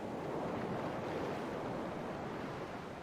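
Ocean waves wash against a ship's hull in The Pale Beyond, a steady, dense rush of surf and wind that holds at an even level throughout, with no voices.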